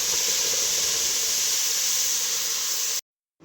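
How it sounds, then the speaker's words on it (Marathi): Hot water poured into a pan of roasted semolina and coconut while making rava upit, a loud steady hissing sizzle lasting about three seconds, then cutting off abruptly into near silence. "गरम केलेलें उदक तातूंत घालपाचें."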